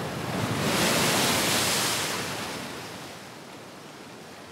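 Ocean waves wash against the rock pool baths on the Sapphire Coast, one broad roaring surge swelling loudly and then slowly ebbing into a softer hiss, with no voices.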